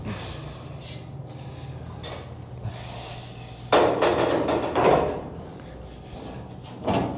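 Sheet metal is folded a quarter inch and bent to form a return base plenum. Dull clanks and knocks sound close by, with a louder scraping rush of metal midway and a final clunk.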